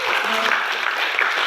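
An audience at a Scout graduation ceremony applauds a blood donor, producing a brief, dense burst of clapping that is loud and continuous from start to finish.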